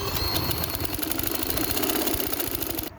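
A sewing machine runs steadily while stitching a frock panel, a continuous mechanical whir with a rapid rhythmic needle beat that stays loud and close for the whole stretch before stopping abruptly at the end.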